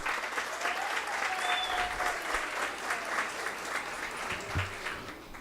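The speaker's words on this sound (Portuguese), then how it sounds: "Gostaria de uma salva de palmas para as duas, para a Nina e para a Kelly" Audience applause at a solemn session of a legislative chamber honoring Writers' Day, steady dense clapping from a crowd sustained for several seconds at moderate volume, filling the room without speech over it.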